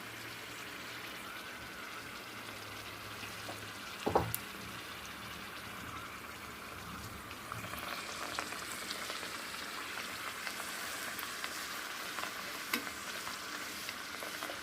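Puris for pani puri fry in hot oil, a steady close sizzling hiss throughout with a brief clatter near the start and a slightly brighter bubbling in the latter half.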